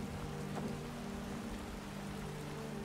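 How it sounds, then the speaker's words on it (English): Heavy rain downpour in Skyrim, a dense, constant hiss of falling water with a faint low hum underneath, steady and unbroken throughout. "Still raining. That's a hell of a downpour."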